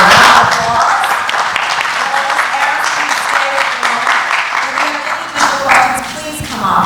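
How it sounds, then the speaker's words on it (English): Audience applause closing a leaders' roundtable panel on economic development, sustained clapping with voices chattering and talking over it throughout. "please give these wonderful people a round of applause."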